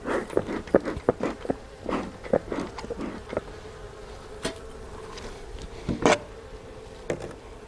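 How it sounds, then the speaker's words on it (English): Honey bees buzz faintly around an open hive during an inspection, amid close clicks, taps and rustles from handling frames and smoke. "We don't really want the bees here, so I'll try to smoke them off."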